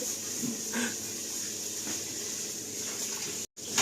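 Water pours from a tap into a pot while rice is prepared for cooking, a steady, fairly close running splash with a brief cut near the end.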